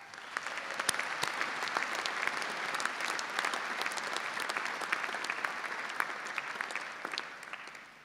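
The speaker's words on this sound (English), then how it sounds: "Let's give them a round of applause." Graduation ceremony audience of families gives sustained, even applause in a large hall, a dense patter of many hands with occasional sharper claps.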